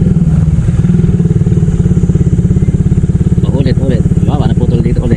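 A motorcycle engine with a broken clutch cable runs loud and close, its steady pulsing thrum accelerating as gears are shifted without the clutch, while someone talks over it.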